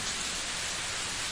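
Steady rain pours in a cartoon jungle, a dense even hiss with no breaks, filling the whole moment with no voices.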